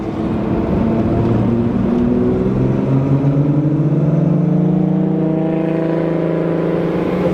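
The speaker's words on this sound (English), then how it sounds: "VR6 sounds are so good." A VR6-engined car cruising on the road, its engine droning and revving in rising and falling tones as it pulls along, loud and close from the cabin with no voices.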